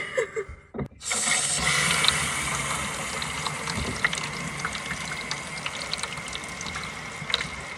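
Hot water runs from a tap inside an RV, starting abruptly after a brief clunk and settling into a steady, close splashing stream that continues alone.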